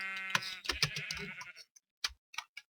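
Video game sheep give a couple of short, close bleats, followed by a few small clicking sounds.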